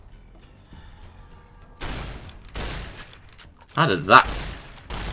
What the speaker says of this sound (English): we might as well put some of those 20 gauge shotgun shells to use